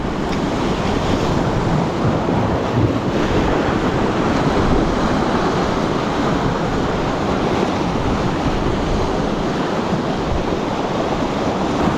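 Strong wind roars over rough sea waves breaking on the shore, a dense, continuous wash of surf and buffeting wind across the whole stretch, with no talk.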